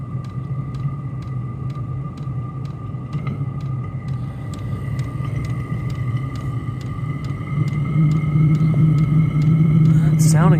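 An E-8 parking heater running after ignition, its blower pushing air onto a steel table with a steady low rumbling drone and regular ticking clicks. A faint rise in level comes near the end.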